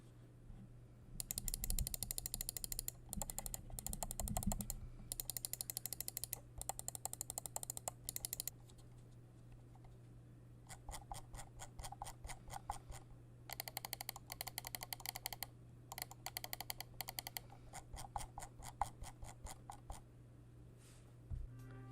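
Crisp, clicky switches of an Endgame Gear XM1 gaming mouse are pressed in rapid bursts of repeated clicks, separated by short pauses, close and isolated over a low steady hum.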